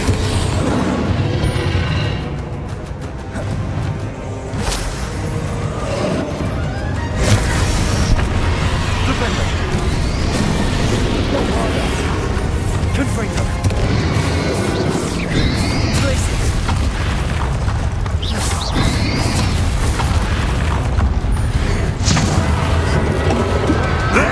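Spell blasts from fire and blasting curses explode one after another in a battle within the Hogwarts Legacy video game, loud crashing booms and thwacks layered over dense game music and effects, with voices shouting throughout.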